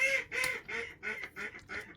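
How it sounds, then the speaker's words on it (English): A duck quacks six times in a steady, evenly spaced rhythm, loud and close, with no talk over it. "The duck agreed with me."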